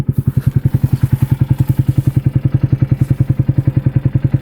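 A fully rebuilt UTV engine that had sat for four years idles steadily up close, with a fast, even run of low thumping pulses and a mechanical clatter riding on top.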